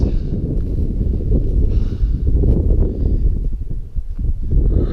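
Turbulent wind buffeting the microphone outdoors, a loud, steady low roar with gusty surges and rumbling that runs unbroken through the whole stretch.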